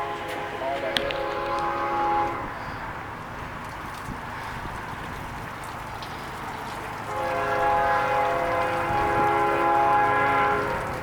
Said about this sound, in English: You won't hear that train for long.